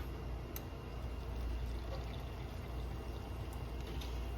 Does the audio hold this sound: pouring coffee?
yes